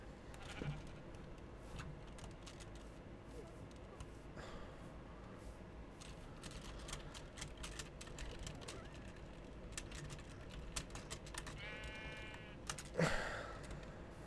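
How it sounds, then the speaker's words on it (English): A Minecraft sheep gives a short, wavering bleat near the end, faint amid low ambient game noise and scattered clicks. "Sheep."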